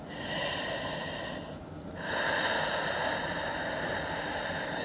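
A slow, airy breath during a yoga practice, steady and close, with a brief dip before a fuller, hissing exhale, heard alone with no talking.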